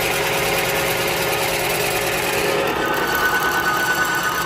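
An engine idles steadily after a SUPERKOTE 2000 lubricant treatment, giving a constant, fairly loud mechanical hum with a light rasping texture that holds without a break.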